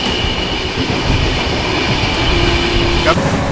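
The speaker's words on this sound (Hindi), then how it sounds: "ओवरटेक हुआ है यहाँ पे कोटा इटावा इंटर एक्सप्रेस का" A passing train overtakes on an Indian railway line, heard from aboard the Seemanchal Express: a steady, loud rumble of rail wagons with rhythmic clatter throughout and a faint wheel squeal near the end.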